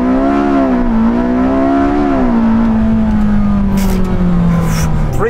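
A Porsche 918 Spyder launches 0 to 60 mph, its engine roaring loud and close with rising revs, a brief dip at a gear change, then a long steady pull as speed builds.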